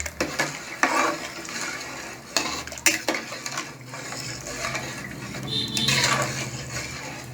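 Salted rice being stirred in a pot of Chettinad-style mutton biryani. A ladle scrapes and clinks against the metal pot in uneven bursts over a faint background sizzle, close by, with no one speaking.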